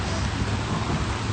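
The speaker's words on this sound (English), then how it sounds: "Look at how it's raining much harder now, and this tree is giving me a lot of protection." Heavy rain pours steadily through the canopy of outdoor trees, a dense, continuous hiss that stays close and unbroken with no voices.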